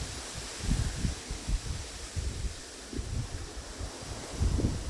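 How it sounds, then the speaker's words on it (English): Wind gusts outdoors on a sunny day, buffeting the microphone in low rumbling bursts over a steady airy hiss, rising and falling irregularly throughout without any talking. "It's very windy."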